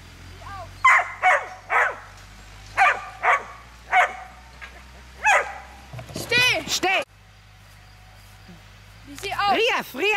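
A dog barks in a series of short, sharp yips and barks, about eight bursts in steady rhythm, close and loud, while a man gives brief German commands during an outdoor dog-training session.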